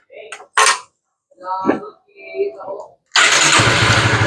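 A motorcycle engine with newly assembled clutch lining cranks over with a few creaking, sputtering turns, then catches and roars into a loud steady running rumble, close by.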